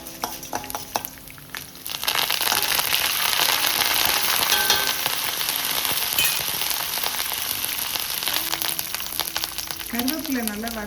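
Curry leaves dropped into hot oil in a pan with fried urad dal and sautéed onion for a coconut chutney, a loud crackling sizzle that bursts up after a quieter start and keeps spitting steadily, with a voice speaking faintly near the end.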